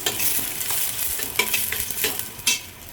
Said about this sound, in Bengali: পেঁয়াজটাকে একটু কষিয়ে তারপরে রসুন বাটা দিব।